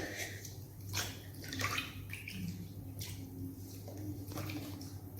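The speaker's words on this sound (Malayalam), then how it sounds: "എന്നിട്ട് നിങ്ങളുടെ കാല് മുക്കി വയ്ക്കുക" Feet are lowered into a basin of neem water, giving soft splashes and sloshing swirls at a few moments over a steady low hum, close and fairly quiet.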